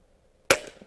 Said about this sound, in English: Okay, I shot an extra pellet